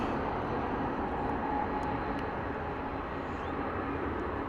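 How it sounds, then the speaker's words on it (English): A Korean Air Boeing Dreamliner, flight 31 from Seoul, arriving at DFW International Airport, heard as a steady, loud, broadband jet roar that holds evenly throughout with no talk. "Came close to missing that Korean Air flight coming in from Seoul. Flight 31. Dreamliner."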